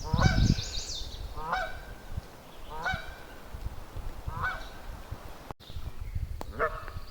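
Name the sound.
goose honking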